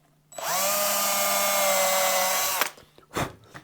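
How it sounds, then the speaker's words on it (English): A power drill whirs at a steady high pitch for about two seconds drilling into a Squier Stratocaster guitar body, then cuts off, followed by a couple of short knocks and scrapes. "I can actually see as I'm drilling into some of these that I'm drilling out the plugs"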